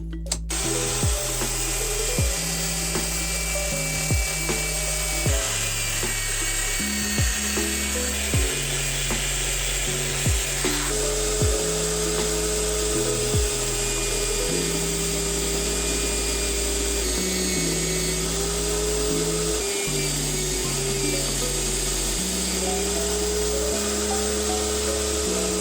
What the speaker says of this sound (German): den Griff konnten wir auf jeden Fall was Gutes tun mit dem Drahtbürstenaufsatz auf der Bohrmaschine